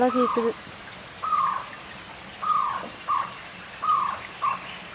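A bird calls repeatedly from a tree in Amirthi forest near Vellore, sounding clear, mid-distance phrases in a steady rhythm, about five separate calls over quiet forest background at night.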